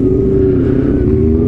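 A car engine revs loudly and steadily up close, a deep sustained roar with a slight rise at the end.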